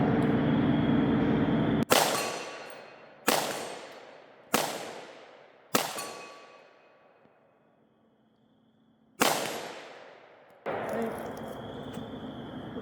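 Gunshots ring off steel hex and auto popper targets at an outdoor range: six sharp, separated metallic clangs, each trailing into a long ringing decay, with quieter background noise between them.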